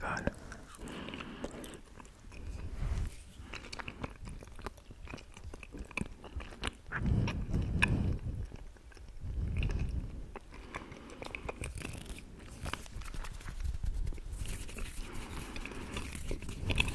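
Sweets are bitten and chewed close to the microphone in an ASMR eating session, with soft crunches and wet chewing coming in bursts, and quiet speech in between.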